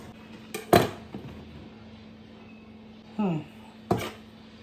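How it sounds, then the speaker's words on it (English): A knife, not a bread knife, sawing and cutting through a loaf of bread for garlic toast, a few short scraping strokes and clunks against a board, close, between quiet stretches. "I don't have a bread knife, so let's see if I don't butcher this."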